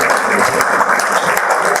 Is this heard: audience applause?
yes